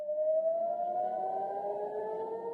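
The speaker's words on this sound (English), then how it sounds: "Sirens were sounding again in Jerusalem" Air raid sirens wail over Jerusalem, a steady rising civil-defense tone heard from a distance, sustained and clear with no talk over it.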